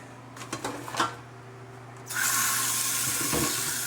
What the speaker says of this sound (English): I'm gonna rinse this out real quick.